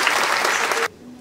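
Dense, loud applause from the audience at an award ceremony for track and field athletes, a close wash of clapping that stops abruptly after under a second.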